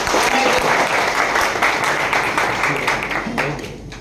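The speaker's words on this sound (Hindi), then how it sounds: "नए लोग, इनके लिए एक बार जोरदार ताली हो जाए।" An audience at a business meeting applauds new attendees with loud, dense clapping that holds steady and then starts to fade near the end.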